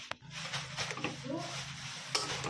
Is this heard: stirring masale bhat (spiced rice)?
yes